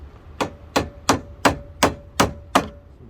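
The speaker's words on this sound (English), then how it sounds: "Tap hammer will work." Seven evenly spaced sharp metallic taps from a body work tap hammer striking a replacement bumper on a 2005 Hyundai Tucson, close and crisp with a faint ringing tone between hits.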